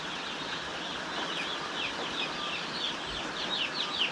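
Young chicks on a farm cluck and chirp continuously at close range, their bright calls layered over a steady bed of farmyard background noise with no talking.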